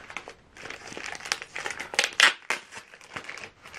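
Packaging for a Gucci bag crinkles and crunches in bursts as it is handled and pulled apart up close, loud irregular rustles with no speech.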